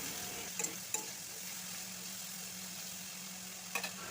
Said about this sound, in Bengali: আলু আর পেঁয়াজটা ভালোভাবে মিশিয়ে নিচ্ছি।